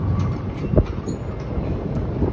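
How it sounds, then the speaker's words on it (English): A Toronto subway train rumbles low and heavy nearby under Bloor Street West, a continuous deep roar with faint rattles and a brief clank. "I can hear the subway rumbling."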